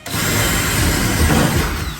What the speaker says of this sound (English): and I'm drilling up from the bottom.